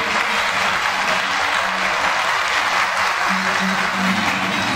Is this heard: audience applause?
yes